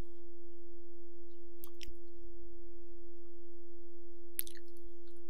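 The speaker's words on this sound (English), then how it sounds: "Let us see another sound wave of the same frequency but of a lesser amplitude." Steady pure sine tone at low level, a demonstration of a quieter wave at the same frequency, holding constant throughout with a couple of brief clicks and rustles.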